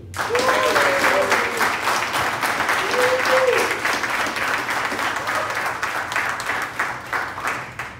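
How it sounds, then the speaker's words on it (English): A crowd applauds a guest introduced on a marketing and branding panel at a hip-hop event, sustained steady clapping throughout with voices and a little cheering mixed in. "Give a nice round of applause for Miss Wendy Day"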